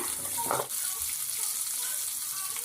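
Shallots and garlic for garlic curry sauté in a pan with a steady, hissing sizzle and a brief stirring rustle near the start.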